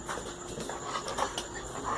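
A dog pants quickly and rhythmically nearby, a run of soft breathy huffs at moderate volume with no talking over it.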